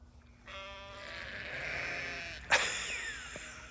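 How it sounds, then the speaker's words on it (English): Farm sheep answer a call with a long, wavering bleat close by, followed by a sharp knock and further fainter bleating in the background. "I get a kick out of yelling out sheep, and then they all answer me."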